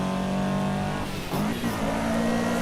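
A race car engine revs hard in Assetto Corsa EVO, a loud, continuous howl that dips briefly at a gear change and then climbs again, with a faint tire squeal.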